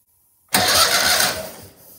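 Kohler V-twin engine with a no-spark fault cranked by its starter, an abrupt loud churning burst after a moment of silence that fades within about a second and a half.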